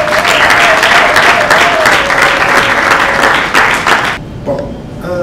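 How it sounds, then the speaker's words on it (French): Loud, sustained applause from an audience at an award ceremony in a hotel, welcoming a speaker: dense clapping close and full for about four seconds before it thins out abruptly near the end. "pour qui je demande d'applaudir très fort."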